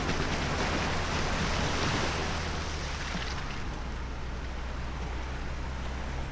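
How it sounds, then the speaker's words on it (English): An off-road vehicle fords a creek on the Ozark trail with a loud, continuous rush of splashing water and engine rumble that stays steady throughout. "these water crossings are beautiful"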